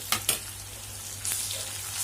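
Onion with ginger garlic paste fries in hot oil in a pan, a steady close sizzle broken by a couple of sharp scraping stirs, then a louder burst of frying, no voices.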